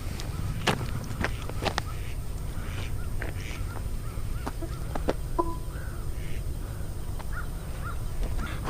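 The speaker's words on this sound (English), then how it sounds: "Whole bunch of ducks. There's a whole flock over there." Ducks calling along a river in the evening, with scattered sharp squawks and honks over a steady low rumble of water or wind, some calls faint and distant.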